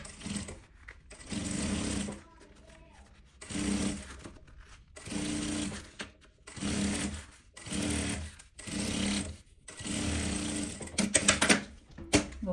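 Sewing machine topstitching a seam on an insulated thermal bag, running in about seven short bursts of rapid stitching separated by brief pauses, close and clear with no talking.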